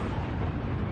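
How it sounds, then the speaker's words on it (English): A missile explosion rumbles as a dense, continuous roar of low, broadband noise, loud and sustained throughout with no clear onset or decay. "There's the explosion."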